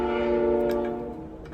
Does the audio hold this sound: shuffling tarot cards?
no